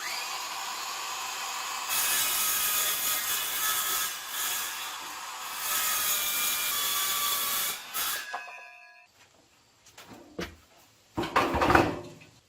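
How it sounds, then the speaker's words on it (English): A Craftsman battery-operated jigsaw cuts wood with a harsh buzzing rasp in two long close bursts, then quiets to stops and starts with a few short scraping, rubbing noises. "I have a nice Craftsman battery operated jigsaw."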